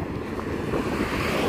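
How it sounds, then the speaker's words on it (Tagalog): Strong seaside wind roars steadily over breaking surf, a dense, loud rush of air and waves with no voices. "Sobrang mahangin."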